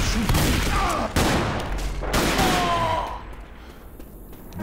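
Rapid bursts of gunfire in the zombie shooter Left 4 Dead, loud and dense at first, then thinning out as the shots fade.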